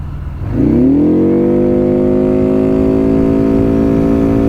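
A Benda Chinchilla 350 Neo CVT scooter engine revs up over about a second, its pitch climbing, then holds a loud, steady drone close by.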